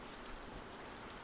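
Steady rain falling outdoors beside a barn on a farm in The Walking Dead video game, a dense continuous hiss close by with no voices.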